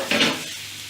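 Curry leaves dropped into a pan of scrambled paneer, a brief close sizzle and stir that flares quickly and fades within a second.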